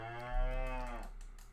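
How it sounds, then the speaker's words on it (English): A single cow moos in the bus-driving game OMSI 2, a clear, drawn-out low bellow lasting about a second, fairly close and alone. "you can hear the cows mooing in the background pretty loudly, probably"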